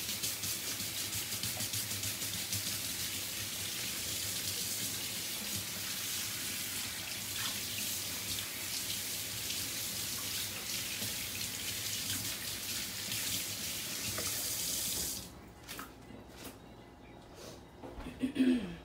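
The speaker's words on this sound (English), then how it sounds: "So let me rinse my hands real quick." Tap water runs steadily into a sink while hands are rinsed before acrylic paint pouring, a continuous close hiss that stops near the end, followed by a few faint clatters.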